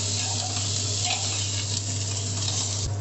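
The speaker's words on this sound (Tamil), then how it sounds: "எண்ணெய் காஞ்சதும் வெங்காயத்தை கொஞ்சம் வதக்கிக்கலாம்" Onions sautéing in hot oil for a Tamil white vegetable kurma, giving a steady, close, broadband sizzle over a low constant hum, with faint stirring scrapes and no voices.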